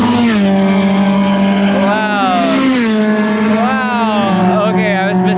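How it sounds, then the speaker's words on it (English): Race car engines, including a Mazda MX-5 Miata ND and a Honda Civic, roar loudly and continuously during a 12-hour endurance race, their pitch rising and falling as cars drive past, with a voice talking over the noise. "Our car is noisy, and then the Civic is also noisy."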